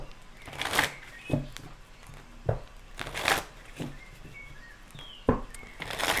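A deck of tarot-style cards shuffled by hand in a few separate riffles and snaps, close and fairly crisp, with quiet gaps between bursts.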